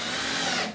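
A power drill drives small screws into wood for a chick brooder and quail cage build, a steady loud close-up whine that runs throughout and drops off at the very end, with no talking.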